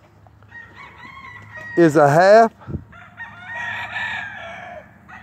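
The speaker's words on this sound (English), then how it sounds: "this rooster we're looking at right here" A half brown-red, half yellow birchen rooster crows once, loud and close, a rising then falling call lasting under a second, followed by a short knock and softer clucking murmurs against a quiet background hum.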